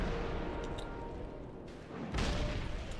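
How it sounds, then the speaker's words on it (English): A cannon fires in World of Warcraft Cataclysm's Worgen starting zone: a dense, rumbling battle din with a heavier booming blast surging up about two-thirds of the way through. "Fire the cannon!"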